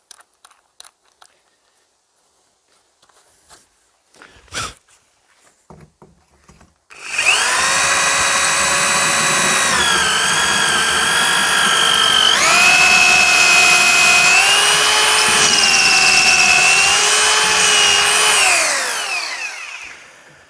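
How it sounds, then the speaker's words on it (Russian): A power drill bores through metal, most likely threaded rod, without a drill press during fireplace building: after quiet handling noises it starts with a loud, continuous high whine that shifts pitch as it loads, then spins down at the end. "Но у нас сверлильного станка нет, поэтому мы сверлим"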